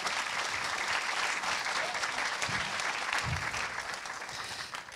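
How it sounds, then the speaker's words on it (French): An audience at a talk on social media and CSR communication gives steady, even applause at moderate volume, with a few faint voices beneath it, and the clapping tapers slightly toward the end. "Je pense qu'on peut déjà les applaudir."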